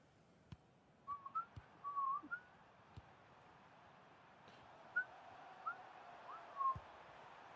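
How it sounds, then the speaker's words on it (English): In the EA FC 26 football video game, short, thin whistles chirp on and off over a low, hushed stadium background, faint and spread across several seconds. "Ooh, that's some good strong whistle."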